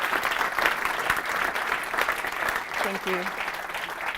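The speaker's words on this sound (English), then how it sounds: "I'd like to hear a huge round of applause for the fellows who already presented and will be presenting" A large audience claps for the presenting fellows at an AI startup demo day, with dense continuous applause and a brief spoken thanks near the end.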